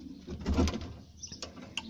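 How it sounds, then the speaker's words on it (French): Young pigeons in a grandfather's breeding loft coo softly in low, muffled bursts, with a few faint rustles and scrapes nearby. "ici il y a des jeunes pigeons"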